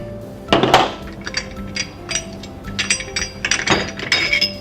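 A wrench clinks and scrapes against metal while loosening a nylon insert nut on the clamp of an ELEY hose reel cart, giving a series of close, sharp metallic taps and ratcheting clicks.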